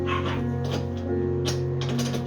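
Ratchet wrench from a socket set clicking while a Gorilla cart is assembled, a steady close mechanical ratcheting with a few sharper bursts over a constant low hum, no talk.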